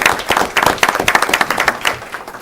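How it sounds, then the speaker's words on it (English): Audience applause at a council workshop and citizens' night meeting honoring a community member: a room of people clapping in dense, irregular bursts for a couple of seconds, fairly close and loud, with no talking over it. "If everybody could give him a round of applause."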